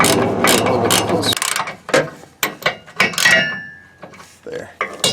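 Socket ratchet tightening bolts while a Curt XD trailer hitch goes onto a 2008 Toyota Tundra, close, sharp clicking strokes in short irregular bursts with metallic clanks between them, following a brief stretch of talk at the start.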